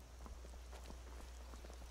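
Rain falls in the game Skyrim, a faint, soft patter of scattered drops heard alone.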